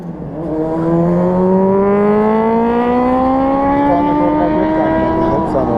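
Traffic on a motorway near the Yavuz Sultan Selim Bridge: a loud, close engine note rises steadily as a vehicle accelerates past, holding a strong droning pitch over the steady road noise.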